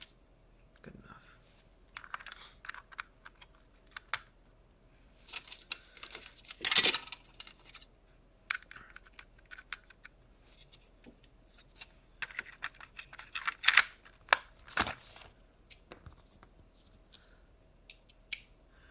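Small screws are driven back into a Game Boy Advance plastic shell with a screwdriver, giving scattered faint clicks, scrapes and ticks of plastic and metal, with a few louder handling knocks in a quiet room.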